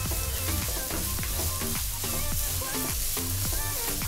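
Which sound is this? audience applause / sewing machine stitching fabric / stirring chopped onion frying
stirring chopped onion frying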